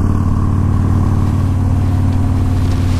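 A Yamaha Raider motorcycle with a 1900cc V-twin engine runs steadily up close, giving a continuous low, throbbing rumble.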